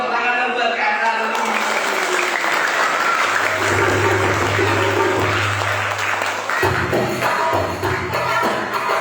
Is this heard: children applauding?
yes